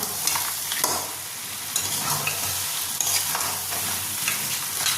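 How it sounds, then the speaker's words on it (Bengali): Crab masala sizzles steadily in a pan over high flame while a spoon scrapes and stirs in repeated strokes, a continuous bright frying hiss with no voices. "আমি এটাকে এবার হাই ফ্লেমে দিয়ে কিন্তু আমি আরেকটু ভেজে নেব"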